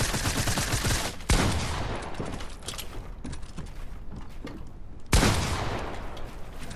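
Rapid gunfire crackles continuously, punctuated by two loud, close blasts, one early and one near the end.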